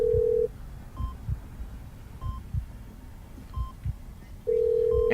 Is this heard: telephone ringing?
yes